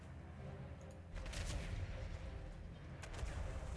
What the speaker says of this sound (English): Launch an iron star on the battlefield, seeking to destroy nearby.